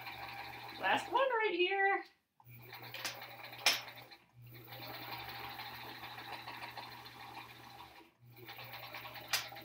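A sewing machine stitches a paper-pieced quilt block in short bursts of quiet mechanical whirring with brief pauses between them, while a person talks briefly over it.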